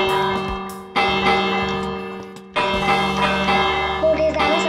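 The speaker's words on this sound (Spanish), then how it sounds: "Vienen aquí con el mundo y tocan las campanas." Bells ring in the Minecraft video game: two bright metallic strikes a couple of seconds apart, each leaving a loud, sustained ringing tone that slowly fades.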